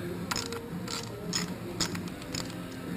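A Torx wrench loosens the screws on a Harley Davidson Softail Deluxe handlebar housing, giving a few soft clicking ratchet-like ticks and small metallic taps, close and fairly quiet, spaced irregularly.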